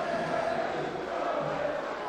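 Canicattì football fans in the stands celebrate a 3-2 Promozione play-off final win over Licata. Dense, steady cheering and chanting from the terrace fill the short stretch at moderate loudness.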